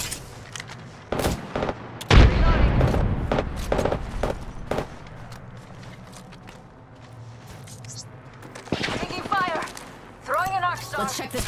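A frag grenade blast and scattered gunfire in a video game, with sharp close shots and a heavy low rumble early on, then quieter stretches and chirpy electronic effects near the end, under occasional voices.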